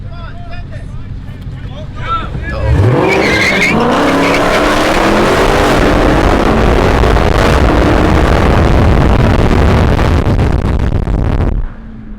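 A Dodge 392 Scat Pack launches in a drag race: a loud, close engine roar with tire squeal that rises and holds for about nine seconds before cutting off, with people talking over it.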